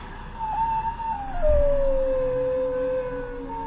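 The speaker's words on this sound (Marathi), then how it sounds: "इतक्यात त्यांना कुत्र्याचे रडणे ऐकू आले" A dog howls in a long, wavering, mournful tone that slides downward, fairly close and alone.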